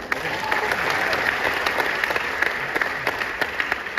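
An audience claps loudly and continuously, a close, dense burst of applause with a few sharper individual claps standing out.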